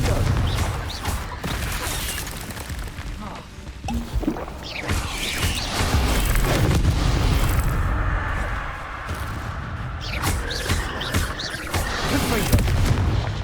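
Confringo blasting spells in the Hogwarts Legacy video game, a dense run of booming explosions and crashing impacts that rumble and swell over thirteen seconds, with brief speech mixed in.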